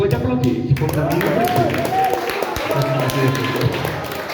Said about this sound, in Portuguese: Se for para Jesus, pode aplaudir.